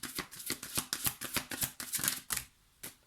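Tarot cards are shuffled by hand in a quick, steady riffle of crisp flicks and slaps, close and clear, pausing briefly near the end before one last soft tap.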